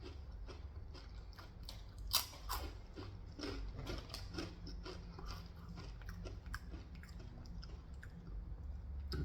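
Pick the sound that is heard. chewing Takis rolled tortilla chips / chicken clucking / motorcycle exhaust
chewing Takis rolled tortilla chips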